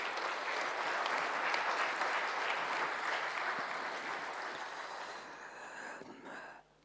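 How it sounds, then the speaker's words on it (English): Audience applause at a New Year reception for ambassadors, a dense, steady roar of many hands clapping together at moderate distance, holding for several seconds before tapering off abruptly. "please, another round of applause"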